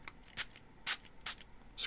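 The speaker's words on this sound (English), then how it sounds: "So go ahead and spray this down." Four short spritzes of liquid onto an Apple Watch Series 8 screen protector, evenly spaced hissing bursts, close and fairly soft against a quiet background.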